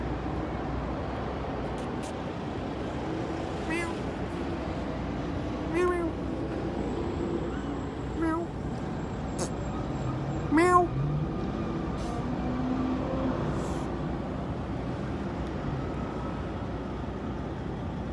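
A few faint, high meows from a young kitten come and go over a steady background rumble of traffic, spaced several seconds apart.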